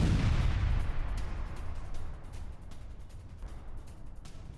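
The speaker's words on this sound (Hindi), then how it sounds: "यह देखिए जरा, स्कैंडर मिसाइल से रशिया ने कल बहुत बड़े हमले किए।" Heavy blast rumble from Russian Iskander missile strikes on a Ukrainian S-300 air defence site, a loud deep boom at the start that decays into a long rolling, crackling roar with scattered distant pops.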